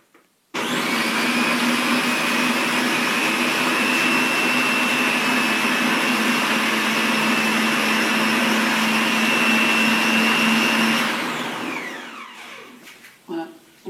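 Soup being puréed in a blender, a loud continuous high-pitched whirring drone running steadily for about ten seconds before winding down and stopping.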